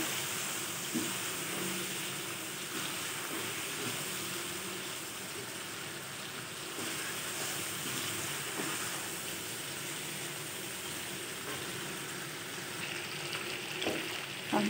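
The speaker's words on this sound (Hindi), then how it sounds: "अच्छी तरह से हिलाते जाएं।" Chicken fries in a pan with a soft, continuous sizzle, with occasional faint scrapes and clicks from stirring under the steady background noise.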